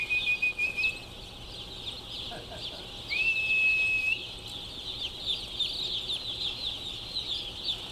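Chickens in a brooding chamber, freshly unloaded birds drinking and eating, give soft scattered clucks and calls over a steady background hum, with a brief rising call standing out near the middle; no talking.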